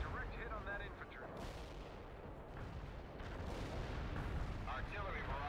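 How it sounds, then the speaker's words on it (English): An artillery barrage in the World in Conflict: Soviet Assault real-time strategy game, a dense, continuous rumble of shell impacts and blasts filling the whole stretch, with radio-style voices briefly over it. "Fire mission received. Our artillery barrage inbound."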